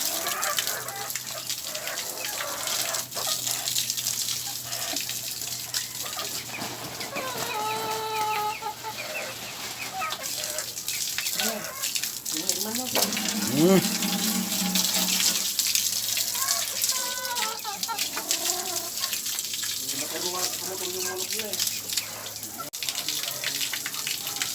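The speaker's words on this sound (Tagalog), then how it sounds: "naibaba na natin yung mga sisiw" Hens cluck and young chicks peep repeatedly nearby while an area is cleaned, with running water and faint scraping underneath throughout.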